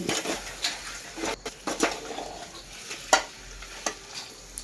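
Chicken curry sizzles and bubbles quietly in a pan, broken by a few sharp scrapes and clinks of a spoon stirring against the metal.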